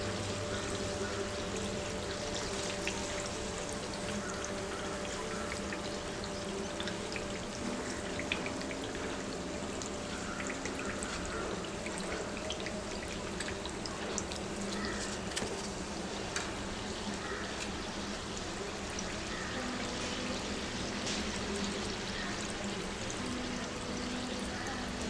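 Besan karanji frying in oil over a low flame, a steady soft sizzle and crackle that holds evenly throughout at moderate loudness, with no talking.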